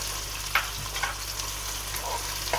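Peas and carrots frying in a pan for vegetable pulao while being stirred, with a steady close sizzle and a few brief scraping stirs over about two and a half seconds.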